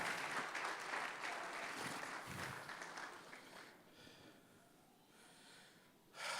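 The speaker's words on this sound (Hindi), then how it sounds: "जोरदार तालियां हमारे खुदा के लिए।" Church congregation at a New Year service claps loudly in praise, a dense burst that fades over several seconds into a quieter room, then a brief swell returns at the end.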